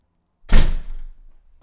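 A front door in a shared house bangs once, a single loud close thud with a short rumbling decay, heard alone.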